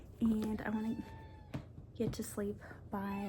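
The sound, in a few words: cat meowing while making a nest on a blanket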